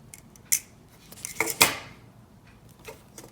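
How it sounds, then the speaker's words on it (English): A wire cutter snips a small piece of wire for a toy horse halter buckle, giving a few crisp close metallic clicks and snaps, the loudest two close together, with no talk. "you're going to take a little bit of wire and you're going to cut it off with a wire cutter"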